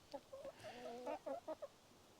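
A few chickens cluck softly nearby in short, broken bursts, with quiet pauses between their calls.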